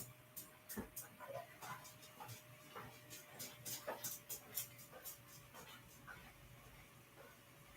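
A pet dog gives soft whimpers and short yips indoors, faint and scattered across the moment, with light shuffling and small clicks between them and no speech.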